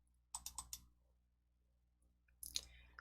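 A computer mouse double-clicks to open a folder: a quick close pair of sharp clicks, a third click just after, a quiet pause, then another fast burst of clicks, all without talk.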